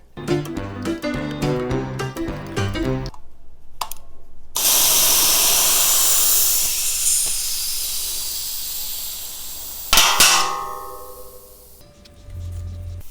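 Air hisses out of a tubeless Vittoria Corsa Speed Graphene 2.0 TLR bike tire with its valve core removed, a loud, sustained rush lasting several seconds, preceded and followed by handling clatter.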